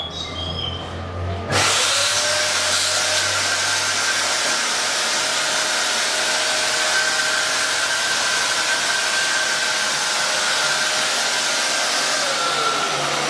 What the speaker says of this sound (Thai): กดสตาร์ทครับ